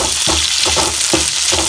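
Green chillies and chopped vegetables for chicken manchurian frying in a hot pan, a loud close sizzle with a few spatula stirs scraping through it.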